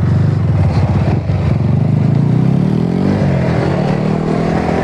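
Yamaha R15 V4 sport motorcycle engine running loud and steady close by, a continuous rough drone that rises slightly in pitch as riders pull away, no talking.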